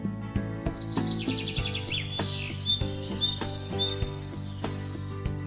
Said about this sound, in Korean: 집으로 오던 중 어디선가 새가 지저귀는 소리가 들렸지.